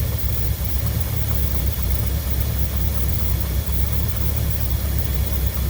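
Smooth, even idle from a Mercury car engine fitted with a freshly rebuilt Motorcraft 2100 carburetor: a constant deep rumble with light hiss, nearby and alone.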